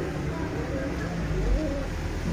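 Soft cooing of Sialkoti pigeons nearby, low rolling calls under a steady background hum and some voices.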